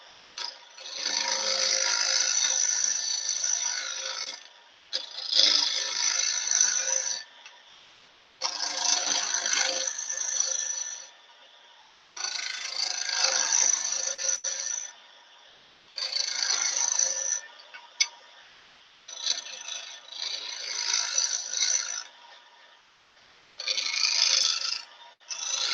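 A skew chisel cuts wood spinning on a lathe in repeated bursts of a few seconds each, a bright scraping hiss separated by short quiet gaps, close and alone with no talk.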